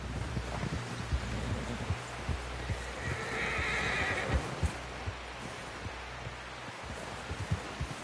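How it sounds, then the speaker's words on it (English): A horse whinnies loudly and clearly in the video game Red Dead Redemption 2, amid a busy outdoor ambience, with hooves clopping and a low rumble throughout. "Someone help John down off this horse."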